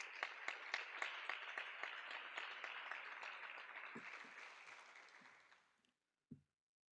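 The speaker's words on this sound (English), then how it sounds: "Please give another round of applause to our guest speaker, Colonel Root" Sustained applause from an audience at a university ROTC commissioning ceremony, honoring a guest speaker; dense clapping holds steady, then thins and fades out near the end, followed by a brief stray sound.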